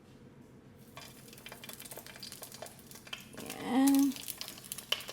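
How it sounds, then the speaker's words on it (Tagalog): Eggplants fry in a pan with a continuous low sizzle and occasional stirring scrapes, while a voice speaks briefly over the cooking. "Ito ang unahin nating prituhin."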